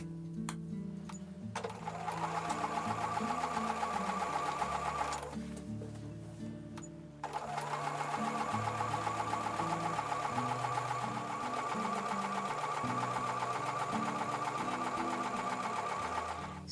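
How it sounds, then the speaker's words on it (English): Domestic sewing machine stitching a quarter-inch quilt seam, running in two sustained bursts of rapid whirring stitches separated by a brief pause, close and clear with no talk. "So I'm going to take these over to the sewing machine and sew with a 1/4 inch seam."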